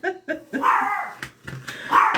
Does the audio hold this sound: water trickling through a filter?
no